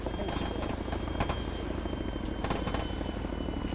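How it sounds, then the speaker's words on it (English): A military helicopter in a tactical shooter campaign mission drones with a steady, loud rotor and engine roar throughout, broken by a few sharp cracks of gunfire or impacts near the start and again later. "Chopper is in front of us."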